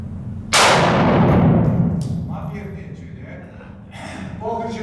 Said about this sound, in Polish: Odbezpiecz, strzał.